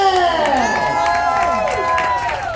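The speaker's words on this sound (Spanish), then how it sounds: "¡Fuerte el aplauso para Ale!" A lively crowd at a festive show cheers for a birthday guest, with whoops, shouting and some clapping blending into a loud, continuous roar that holds steady throughout.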